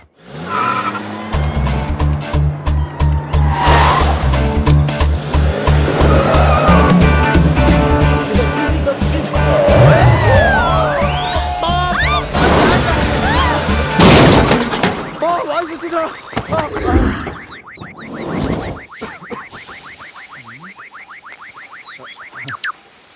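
A car in an action comedy film scene skids with squealing tires and crashes, metal banging as the bumper is knocked off, layered with dramatic music and followed by people talking.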